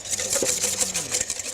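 A whisk beats garlic dressing in a bowl, a fast close rhythmic clatter of rapid even strokes throughout, with a faint voice underneath.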